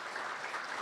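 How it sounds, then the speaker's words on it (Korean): Audience clapping to welcome a guest, a Seoul Southern District Court chief judge, at the start of a lecture class; a dense, steady wash of many hands, brief and fairly loud with no pauses. "큰 박수로 환영해 주시기 바랍니다."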